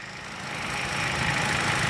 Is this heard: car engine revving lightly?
yes